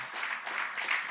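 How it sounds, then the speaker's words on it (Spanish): A church congregation applauding during a Spanish-language sermon, a brief burst of steady clapping, moderately distant and fairly quiet, with no talk over it. "Un aplauso fuerte a mi Señor."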